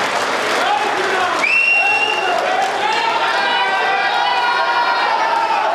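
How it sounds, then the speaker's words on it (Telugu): An audience at a BJP felicitation event for MLCs breaks into steady, dense applause on request, a continuous wash of clapping with crowd noise and a voice carrying over it. "గట్టిగా చేతులెత్తి చప్పట్లు కొట్టాల్సిందిగా నేను విజ్ఞప్తి చేస్తున్నాను"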